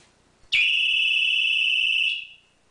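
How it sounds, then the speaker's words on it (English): A pistol pad security alarm goes off with a piercing, steady high electronic tone, loud and close, holding for about a second and a half before cutting off. "Lifting the pistol pad even slightly will immediately set it into alarm."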